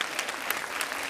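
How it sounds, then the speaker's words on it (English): A crowd at a Y20 youth event claps steadily in a dense, even round of applause that fills the short moment with no voices over it. "a nice round of applause."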